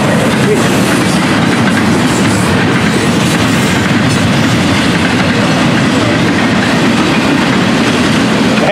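A loud FEC101 train rolls by up close, a dense continuous roar with rhythmic clickety-clack of wheels over the rails.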